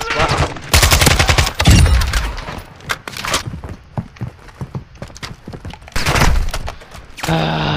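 Bursts of automatic gunfire from the Warzone DMZ video game, loud and close, with several rapid volleys separated by brief pauses and scattered single shots.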